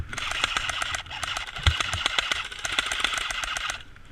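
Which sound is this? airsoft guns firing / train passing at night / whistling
airsoft guns firing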